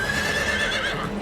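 A horse gives a loud, close whinny with a high, wavering cry held over roughly a second. Shuffling hooves and general noise fill the background.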